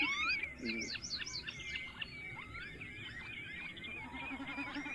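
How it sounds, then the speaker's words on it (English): Oystercatcher, a coastal wader of northern Europe, calling with faint, thin repeated piping notes over a steady low outdoor hum, distant and quiet. "The oystercatcher bird is another representative of waders."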